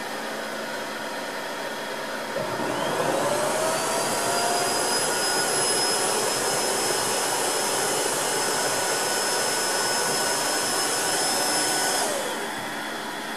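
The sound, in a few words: Tineco iFloor 3 wet-dry vacuum running with rotating brush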